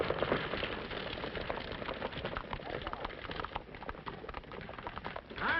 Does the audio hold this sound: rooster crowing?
no